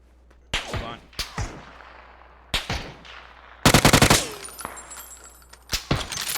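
Gunfire in PUBG on PC: sharp single shots and a rapid machine-gun burst crack out at close range, spaced across the stretch with brief quiet gaps and faint background between them.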